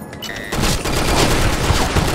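Dense rapid gunfire erupts in the online shooter Blackshot during a competitive match, a loud close burst of overlapping shots that starts abruptly after a quiet moment and continues to the end.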